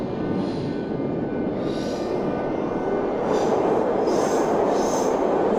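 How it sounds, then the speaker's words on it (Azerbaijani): A metro train runs in the Roblox Baku Metro video game, a steady, loud rolling rumble with a faint rhythmic rail clatter that swells slightly after the midpoint, with no talking. "budur qatarın səsi"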